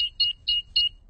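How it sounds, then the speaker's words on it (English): A cartoon house alarm beeps in a rapid, high electronic pattern, three to four bright pulses in quick succession, clean and close with nothing else audible. "I'll just switch the alarm off."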